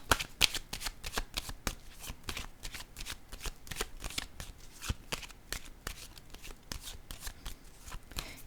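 Tarot cards shuffled by hand in a long run of quick, crisp riffling bursts, close and fairly quiet, with no voice over it.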